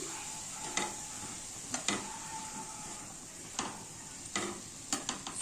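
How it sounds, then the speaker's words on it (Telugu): A spoon occasionally knocks against a pot while tomatoes are mixed into carrot curry, producing sparse sharp clinks over a steady low cooking hiss, fairly faint. "దీనిలో కొంచెం టొమాటోస్ వేసుకొని బాగా కలుపుకోవాలి"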